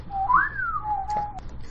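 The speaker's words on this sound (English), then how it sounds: "I thought we were whistling." A single whistled tone glides up, arcs slowly back down, and holds steady before cutting off, with a faint low hum underneath.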